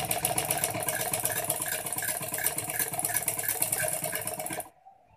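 A sewing machine runs steadily, stitching a shalwar from the center of its back, a continuous close mechanical whir that cuts off abruptly near the end, no voices over it.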